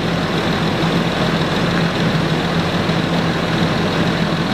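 A Land Rover Discovery 3 engine idles steadily while its air suspension compressor pumps, a constant close rumble with a faint steady hum layered over it, no voices.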